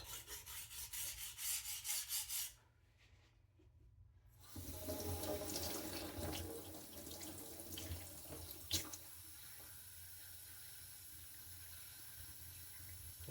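A thin kitchen knife is worked across a 400-grit Atoma diamond plate with very light pressure, giving a steady, close rasping scrape that pauses briefly, then resumes as a continuous even grind, with running water in the mix.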